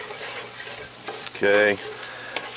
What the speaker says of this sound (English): browning the flour in the oil and the onions